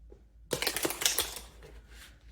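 A deck of cards being shuffled by hand, a quick close burst of riffling flutter lasting about a second, then quiet with a faint click at the end.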